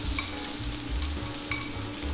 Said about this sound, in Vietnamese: Kế tiếp là tỏi và mấy củ hành củ ha.